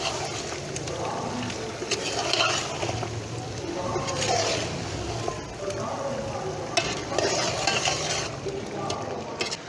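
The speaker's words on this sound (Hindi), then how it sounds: "स्पाइस डाल के भी बहुत ही अच्छे से मैंने मिक्स कर लिया है" Spices being stirred into chicken korma in a large pot, a continuous close scraping and clinking of the spoon over low sizzling, with a voice talking intermittently over it.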